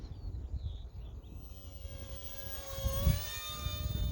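A UMX Viper 30mm RC micro jet flying outdoors, a thin high electric ducted-fan whine that rises and shifts in pitch as it passes, faint over low wind rumble with no talking.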